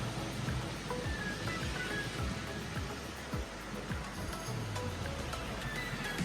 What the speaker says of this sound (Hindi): today is rainy